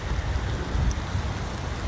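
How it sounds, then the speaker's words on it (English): Steady rain falls on concrete and grass outdoors, a dense, even patter that holds at moderate loudness throughout with no voices. "So it's raining."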